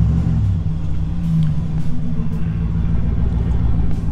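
An old Chevrolet Silverado pickup with a temporary exhaust idles and revs, a loud, rough low rumble that swells slightly near the middle, close by and without speech.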